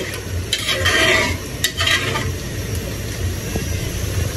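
A pan of fish curry broth bubbling and sizzling steadily as it comes to a boil, with a few scraping stirs and clinks near the start, close and fairly loud.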